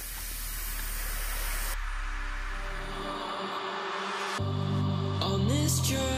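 A spray gun lets out a steady, loud hiss of atomised paint that cuts off abruptly partway through, followed by fainter hissing and tonal mechanical noise.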